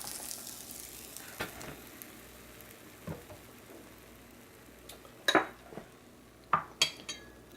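Eggplant slices frying in oil: a faint, steady sizzle runs underneath while sharper clinks and knocks of utensils against a pan ring out every second or so, clustering more densely toward the end.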